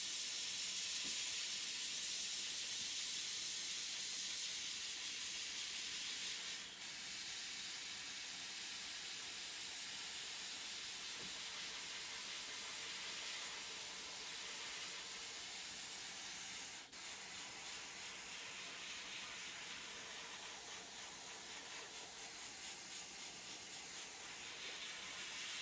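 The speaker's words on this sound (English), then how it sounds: "You can spray the whole back too." An airbrush sprays paint across the back of a fully flocked wood duck drake decoy, giving a faint, continuous, even hiss with no talking.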